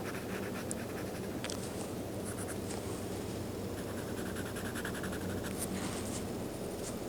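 A pencil scratches across paper in soft, uneven strokes as lips are shaded in a portrait drawing, with quiet rhythmic scraping coming close up and faint.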